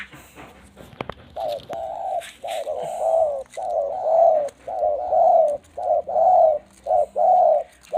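A mountain decoy bird coos close and loud in a regular series of soft, rounded calls, about a dozen in a row with short pauses between them.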